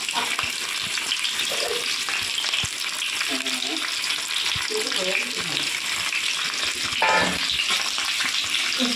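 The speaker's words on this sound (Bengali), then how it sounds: "গরম তেলের মধ্যে আলু দিয়ে দিচ্ছে" Potatoes fry in hot oil for aloo bhaja, a loud, constant close sizzle with occasional stirring clinks and faint voices murmuring in the background.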